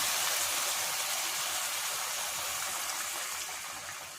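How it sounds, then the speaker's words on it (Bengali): Water pours into a pan of simmering prawn and jackfruit curry in a soft, continuous gush that thins out toward the end, heard close and fairly quiet. "এরপর আমি এতে একটু জল দিয়ে দেবো"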